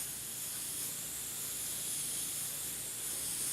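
Steady, close hiss of an aerosol spray held continuously, bright and airy with no pauses or voices throughout.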